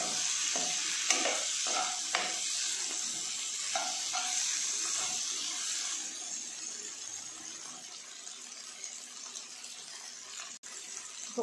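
Drumstick pieces go into a pan of frying tomato and onion for a coconut milk drumstick curry and are stirred, with a steady sizzle under repeated spoon scrapes and stirring, close and fairly loud throughout.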